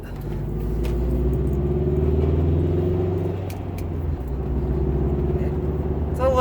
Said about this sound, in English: just kind of cruising, it sounds pretty similar to the stock exhaust